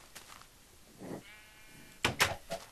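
Sheep in the video game Minecraft bleating, two or three short, fairly close bleats in quick succession against a quiet background.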